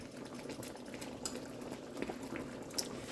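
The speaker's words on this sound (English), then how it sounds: "just let it simmer" Gravy bubbling and simmering in a pot on a stovetop, a steady soft seething with small irregular pops and blips throughout, fairly close and quiet, with no talking.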